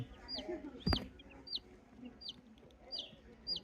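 Repeated high, thin chirps from sick broiler chicks at fairly regular intervals, with a sharp knock early on and some low clucking from a native hen in the background.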